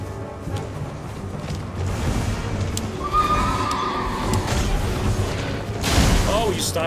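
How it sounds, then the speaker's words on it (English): A horse whinnies loudly during an Elden Ring fight, its neigh rising over clanking mechanisms, booming impacts and busy game noise, with the loudest burst near the end. "Ah, come on with that horse."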